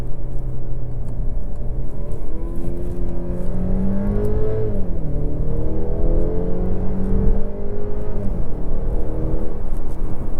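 A 2024 Mercedes E350 4Matic with a nine-speed automatic accelerating hard, its engine note climbing steadily through the gears as a continuous, fairly loud drone heard from inside the cabin.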